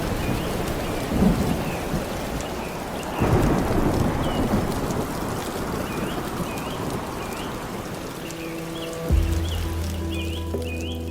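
Heavy rain pours down steadily in a rainforest while thunder cracks and rumbles several times, wind thrashes through the canopy, and birds chirp faintly in the background.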